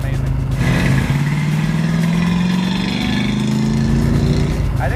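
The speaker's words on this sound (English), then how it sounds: "the engine's shaking because it's running too fat" A 1978 Chevrolet Monza Spyder engine running rich and rough at highway speed, a loud, steady drone with a shaky low throb and wind roar, rising slightly in pitch over the stretch.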